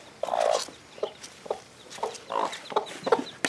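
Hen clucking in a short series of close, moderately loud calls with brief pauses, near a chick on a farm where a chicken tractor is kept, with no talking.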